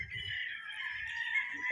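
Fighting roosters of the Gilmore breed clucking and calling from crates as they are loaded for transport from a farm, a steady close-up chorus of bird calls with low rustling and handling noise beneath.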